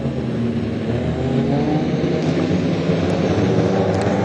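National 4's race cars roar around Gympie Speedway running side by side, a loud steady wall of engine noise close to the track with no let-up.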